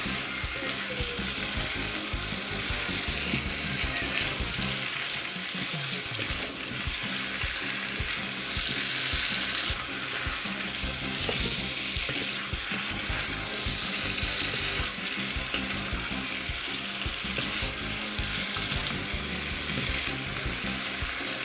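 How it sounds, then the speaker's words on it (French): Steady, loud sizzling from chicken with chayote and calabash frying in sauce, with stirring in the pan running continuously throughout and no voices. "On va tourner tout ça. On va bien mélanger à la sauce."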